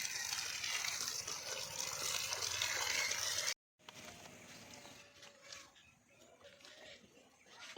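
Water gushes steadily through a pipe into a garden channel for watering flowers, a close, continuous rushing flow that cuts out abruptly for a moment, then returns softer with a lighter trickle and faint background sounds.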